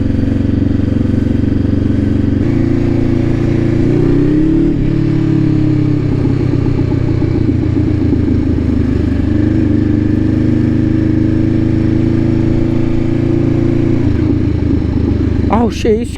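Motorbikes ride along in a group, their engines a loud continuous rumbling drone with shifting revs and wind noise throughout, heard close from the rider's own bike.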